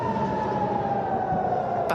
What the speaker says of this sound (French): Les sirènes se déclenchent.